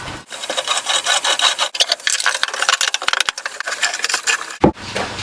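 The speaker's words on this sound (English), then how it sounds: "we're going to start by drilling a 2-inch diameter hole right here" Steady rasping, grinding bursts of a 2-inch T-auger boring into wood, continuous for several seconds with a brief pause and a sharp knock near the end.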